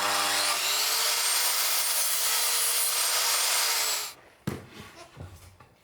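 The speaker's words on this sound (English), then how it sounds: "I'm just gonna use the chop saw to add like a little chamfer to it" Chop saw cutting a small chamfer along a wooden edge, a loud, steady high whine lasting about four seconds, then the blade spins down, followed by a few close knocks and handling sounds.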